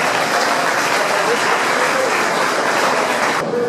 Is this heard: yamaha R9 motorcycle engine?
no